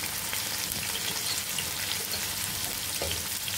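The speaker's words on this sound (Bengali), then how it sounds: "এখন ভালোভাবে ভাজা করে নিতে হবে" Ghati taro and potatoes fry with turmeric and chilli powder, giving a steady, close, hissing sizzle that holds even throughout and has no talk over it.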